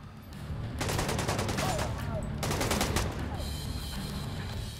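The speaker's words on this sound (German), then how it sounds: "Ich schieße da mal ganz kurz drauf." Rapid bursts of gunfire from The Division 2, two dense volleys of automatic shots followed by scattered fainter cracks, steady and fairly loud against a low game background.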